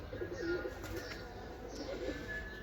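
Soft, low cooing from pigeons repeats a few times, fairly faint over a quiet outdoor hum with an occasional light chirp.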